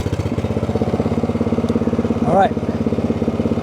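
Idling Cub Cadet CC30H riding lawn mower engine with the parking brake set, a steady pulsing low rumble running throughout, with a brief whine near the end and a short spoken remark at the start.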